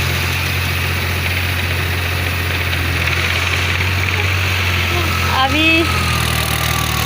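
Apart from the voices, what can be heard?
tractor engine running in a rice paddy field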